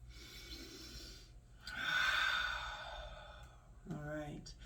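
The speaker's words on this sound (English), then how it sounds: "Take a cleansing breath." A deep cleansing breath during a guided mindful movement exercise, drawn in and then exhaled as a long, audible sigh-like rush of air, fairly close and soft, with a brief voiced note at the end.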